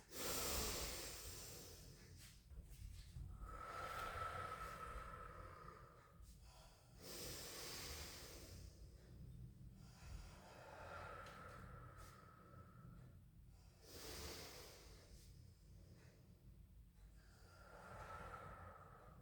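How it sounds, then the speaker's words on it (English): Slow, deep nasal inhales and exhales during a standing yoga tree pose, each breath a soft airy rush lasting a few seconds, repeated steadily and faintly up close with no talking. "just take some deep inhale, exhales"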